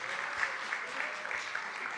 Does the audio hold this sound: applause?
yes